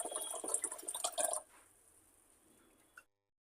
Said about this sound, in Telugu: ఇప్పుడు వాటర్ పోసి ఫిఫ్టీన్ మినిట్స్ నానబెట్టుకోవాలి